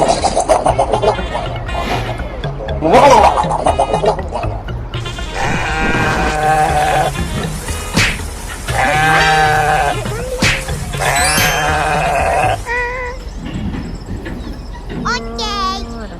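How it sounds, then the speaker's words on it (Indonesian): Goats bleat repeatedly near a railway line, several loud, wavering calls scattered through the clip, mixed with people talking and other outdoor sounds. "Wah ada kambing teman-teman."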